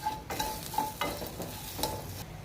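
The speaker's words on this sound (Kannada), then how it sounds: "ಎಣ್ಣೆ ಬಾಣಲಿ ಒಳಗೇ ಹುರ್ಕೋತಾ ಇದ್ದೀನಿ ಒಂದು ಸ್ಪೂನ್ ಜೀರಿಗೆ ಹಾಕೋತಾ ಇದ್ದೀನಿ" Cumin, cinnamon and cloves roasting in oil in a pan, giving a steady close sizzle with a few sharper crackles and stirring scrapes throughout.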